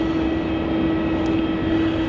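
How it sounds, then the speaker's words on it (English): A Virgin Australia Boeing 737 airliner at Melbourne Airport produces a steady, loud engine roar with a constant whine, unbroken throughout and with no voices. "the Virgin Australia 737 going to Nadi. Is going to use runway 34"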